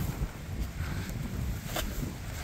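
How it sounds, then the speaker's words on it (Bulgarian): Wind blowing across a building site terrace on the first floor of a house under construction, a low rumbling buffet of gusts against the microphone, steady and close, with no talk. "Тъй като има и вятър."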